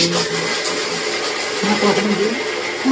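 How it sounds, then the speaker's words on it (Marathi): A kitchen mixer grinder runs steadily through the whole stretch, a continuous whirring motor drone at close range with no pauses, while home cooking is under way for fasting snacks. "मिक्सर लावले मग काय आवाज येणार नाही"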